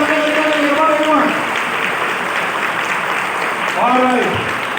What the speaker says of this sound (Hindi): एक बार जोरदार तालियां बजाएं एवरीवन